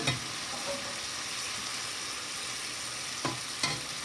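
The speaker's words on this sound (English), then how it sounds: "We're just gonna cook the lima beans a little bit." Lima beans cook in a pan with starchy pasta water, giving a steady close bubbling sizzle with a couple of sharp utensil scrapes toward the end.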